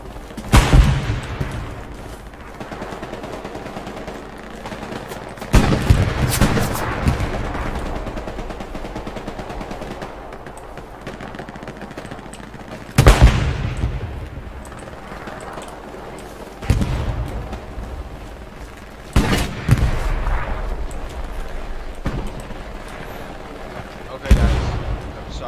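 Machine gun laying down suppressing fire in Hell Let Loose, heard as several loud bursts of automatic fire spaced through the stretch over a constant battlefield rumble, with a voice talking between the bursts.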